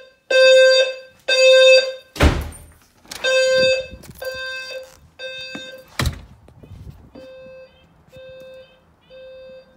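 A low frequency fire alarm sounder gives repeated steady tonal blasts, loud and close, with a pause pattern between pulses, broken by a couple of sharp thuds; no one speaks.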